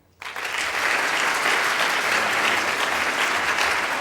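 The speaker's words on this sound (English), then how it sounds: "please applaud." At an Ig Nobel Awards roadshow debate at Imperial College London, an audience votes by applauding: clapping surges in abruptly after a brief hush and holds loud and steady across the hall.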